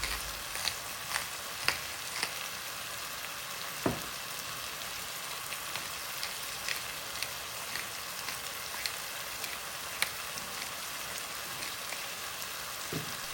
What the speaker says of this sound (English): Give it a stir. The vegetables are softening and the mixture is starting to turn into a thick, fragrant base.